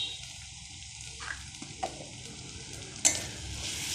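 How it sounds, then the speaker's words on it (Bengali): Potatoes, peas and ginger paste fry together in a pan with a steady low sizzle, broken by a few soft stirring scrapes and a sharper clink of utensil near the end. "এবার এগুলো সব একসাথে ভালো করে ভেজে নেব।"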